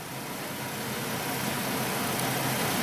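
A car engine idles steadily after its throttle body has been cleaned, a low, even hum holding at moderate level throughout with no speech over it.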